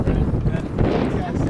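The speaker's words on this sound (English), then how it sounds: "a bit windy today" Wind buffeting outdoors, gusty low rumble hitting the microphone in a loud, continuous rush for a brief moment.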